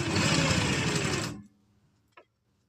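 A sewing machine runs in a fast continuous whir for over a second while stitching piping onto an umbrella frock, then stops abruptly, followed by a short click.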